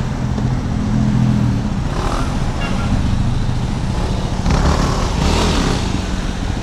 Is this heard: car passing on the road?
yes